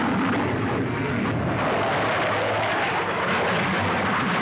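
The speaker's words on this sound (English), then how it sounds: "This is the F-104, powered by a new and more powerful jet engine." A Lockheed F-104 Starfighter jet fighter roars past in flight, a loud, continuous, broadband jet-engine rush that holds steady throughout.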